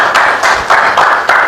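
A church congregation claps hands together in a steady, even rhythm of loud, close bursts, with no voices over it.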